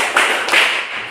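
Students in a classroom clap together on cue from their teacher during a teaching practice exam, two or three bunched group claps, close and fairly loud, with no voices.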